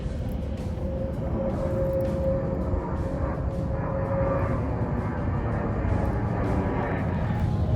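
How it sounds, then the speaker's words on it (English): An airplane passes overhead as a steady, broad engine rumble during an afternoon in Phoenix near construction, holding level and fairly loud throughout with no talking. "every time I try to talk, I get an airplane, and here comes another one"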